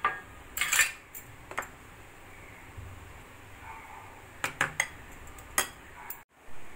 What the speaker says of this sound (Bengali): চামচ করে প্রত্যেকটা বাটির মধ্যে দিয়ে নেব।